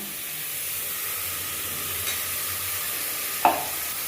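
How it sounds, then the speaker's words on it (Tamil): Onions and curry leaves sauté in oil in a pan for a Tirunelveli-style goat head curry, giving a steady close sizzling hiss throughout with a single sharp clink of a utensil near the end. "வெங்காயம் நல்லா வதங்கணும். கருவேப்பிலை கொஞ்சம் போட்டுக்குவேன்."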